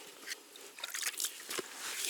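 Water added bit by bit to crucian carp groundbait, giving faint close sloshing and wet squelching as the mix is worked by hand outdoors, brief and quiet with no talk.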